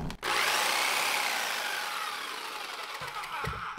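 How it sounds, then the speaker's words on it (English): Whirring power tool, powered by an Anker SOLIX C1000 portable power station, starts abruptly and runs loud and steady, pitch sagging slightly under load, with a few clicks near the end. "plug up my power tool"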